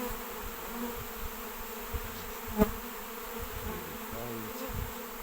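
A honeybee swarm settling on a tree outdoors, a dense continuous buzzing drone from many bees at even loudness, with an individual bee passing close by briefly.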